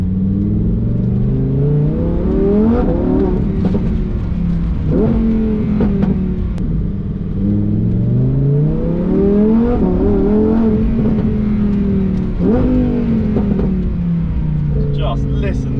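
A supercar engine accelerates hard under light throttle, its pitch sweeping upward through repeated gear pulls with brief dips between them, loud and close throughout the drive.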